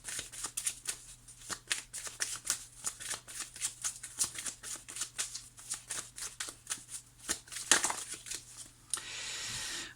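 Oracle cards shuffled by hand for a reading, a steady run of crisp riffling and slapping close up, ending in a brief rustle.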